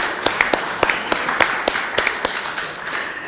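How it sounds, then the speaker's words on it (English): An audience at a Board of Deputies meeting gives scattered, sparse claps with distinct individual hand strikes over a room hum, moderately loud and without voices. "let's give her a clap"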